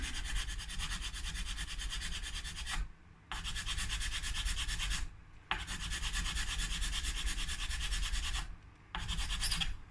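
A file taking down the nut of a Schecter Hellraiser 7-string guitar during a six-string conversion, striking metal: four long, close, rasping strokes with short pauses between them.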